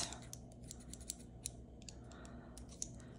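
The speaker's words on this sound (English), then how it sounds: "Scissors" Scissors handled during a stationery unboxing, giving a few faint, sharp metallic clicks and snips spaced over a quiet background with no talk.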